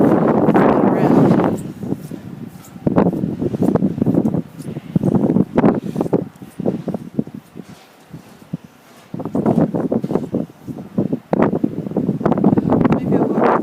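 Strong wind from a Massachusetts blizzard batters the microphone in loud, gusty roaring bursts, easing briefly near the middle before surging back for the rest.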